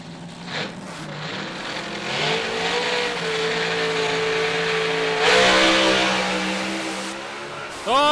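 A nitro funny car at a drag strip launches with a roaring, rising engine note. The tyres rattle, then there is a quick throttle flap and a surge. It is loud and fairly close, with a second rev at the end.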